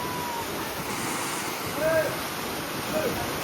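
Floodwater rushes across a farm field, a steady, full roar of flowing water that holds evenly from start to finish with no pauses.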